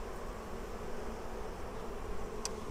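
Bees buzzing around an opened Flow Hive, a steady, dense drone close by with no voices, holding even throughout.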